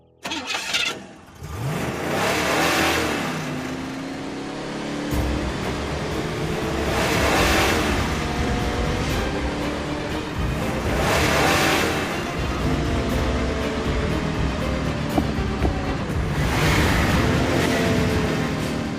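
A truck engine starts and revs repeatedly while stationary, loud, close rising surges of roaring engine over a constant rumble, with brief voices underneath.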